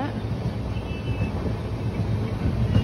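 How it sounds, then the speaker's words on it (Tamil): A passenger train runs on rails, heard from on board as a continuous, loud low rumble with faint rattling, steady throughout. "ட்ரெயின் போயிட்டே இருக்குது."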